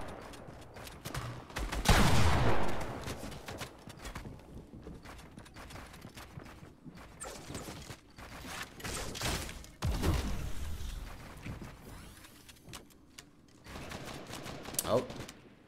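Shotgun fire in a Fortnite solos tournament match, several sharp heavy blasts spaced apart amid clattering game action, with commentary talk running alongside.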